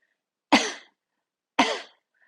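Someone coughs hard, close up, during a breathing exercise with hands pressed just below the lower ribs; two sharp, separate coughs stand alone in near silence, about a second apart.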